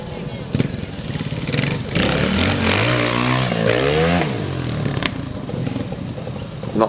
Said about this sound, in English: who was cutting across to Toby Martin, absolutely revving the gut out of his factory Honda, semi-factory Honda.